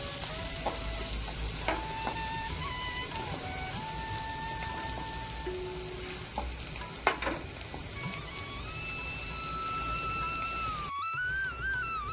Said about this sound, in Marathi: आता हे चांगलं परतून घ्यायचं सोनेरी कलर येईपर्यंत